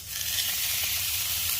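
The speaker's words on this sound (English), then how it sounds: "Here goes that sizzle." A ribeye steak hits a hot cast iron skillet and sizzles, a loud, steady hiss of frying fat that holds without a break, with no talking.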